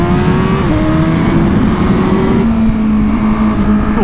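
A 2020 Honda Fireblade SP motorcycle pulls hard in first gear, its engine loud and close, with the pitch climbing and stepping as it accelerates without pause.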